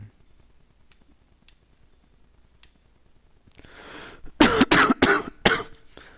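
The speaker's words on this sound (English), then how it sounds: "sorry about the cough, just coming off a nasty cold" A man recovering from a nasty cold coughs several times in quick succession, close and loud, after a stretch of near silence with faint clicks.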